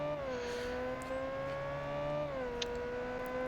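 A car accelerating steadily through a drag race run in the All Out Drag Race video game, engine tone climbing and shifting once through a gear change, loud and continuous with no talking.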